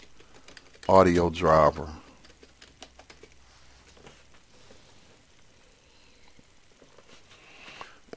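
Soft, scattered keystrokes tap on a Windows computer keyboard at close range, faint and irregular, after a short spoken phrase at the start.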